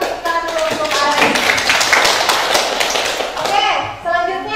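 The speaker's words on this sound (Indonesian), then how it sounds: "Berikan tepuk dulu untuk Ari." A classroom of students claps for a student named Ari, a dense wash of hand claps filling the whole moment, with a teacher's voice talking over it near the start and end.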